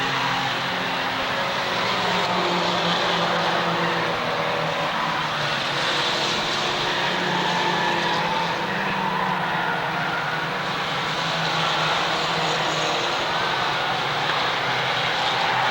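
Mini stock race cars lapping in the closing stages of a feature at Waterford Speedbowl, their engines forming a steady, dense roar throughout with no gaps.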